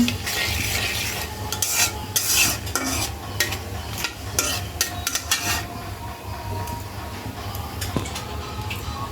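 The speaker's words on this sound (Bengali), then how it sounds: "জিরেটা একটু ভাজা ভাজা করে নেব।" Whole cumin seeds and bay leaf crackle in hot oil for khichuri, with light sizzling under frequent sharp spoon-on-pan clinks and scraping as the spices are stirred.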